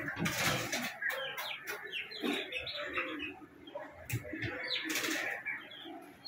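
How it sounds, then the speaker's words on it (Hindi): Baby chicks kept in an aquarium to warm up from a cold cheep and chirp in quick, overlapping high-pitched bursts, close and lively, with a few louder peeps standing out. "ये देखो भाई मछलियों की जगह हमने चूजे रख दिए"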